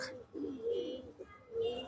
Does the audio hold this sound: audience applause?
no